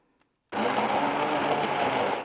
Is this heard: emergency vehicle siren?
no